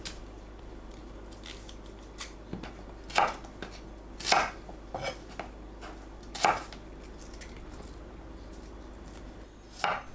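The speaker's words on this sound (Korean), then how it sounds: "양파를 한 입 크기로 썰어주세요" An onion is cut into bite-size pieces with a knife, giving a handful of sharp, close chops on a board, spaced unevenly over a quiet background hum.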